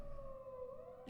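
Distant sirens wail in the video game Yakuza 4 Remastered, a faint steady tone gliding slightly in pitch over a quiet background, heard alone with no voices.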